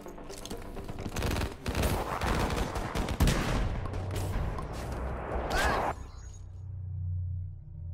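Call of Duty: Black Ops 3 multiplayer gunfire comes in dense, rapid automatic bursts that crackle loudly for about six seconds. It then cuts off to a low background hum, with faint talking under it.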